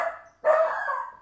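A dog barks indoors: a short call fades out, then a louder, longer bark follows, fairly close and heard on its own.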